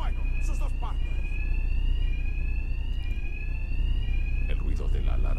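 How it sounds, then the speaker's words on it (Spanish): Wailing alarm siren in the video game Batman Arkham Knight, a steady tone sliding slowly up and down, with voices speaking over it and short bursts of other game sounds. "El ruido de la alarma cubrirá mis ataques."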